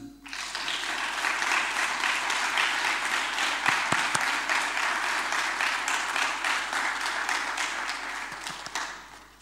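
Sustained audience applause for Professor Nada Mourez El Nasr, honorary dean, at a university reaccreditation ceremony in Beirut. The dense, even clapping holds steady for about nine seconds and fades at the end.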